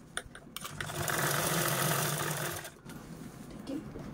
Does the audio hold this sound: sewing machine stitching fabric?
yes